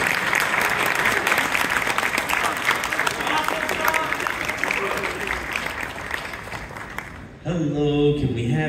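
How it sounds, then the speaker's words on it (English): A crowd at South Texas Comic Con 2024, during an actor's Q&A, gives a loud round of applause that thins out before a voice takes over at the end. "Give a round of applause, everyone."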